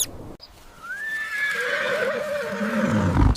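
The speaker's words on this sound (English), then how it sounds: "Small brown savanna wild horse." A small brown wild horse of the savanna lets out a single loud, rising then wavering whinny up close, ending in a snort.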